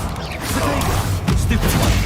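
Bombarda blasting spell in the Hogwarts Legacy video game bursts with a crunching explosive smash and rumbling debris, followed by a second heavy impact about a second later, loud over game noise.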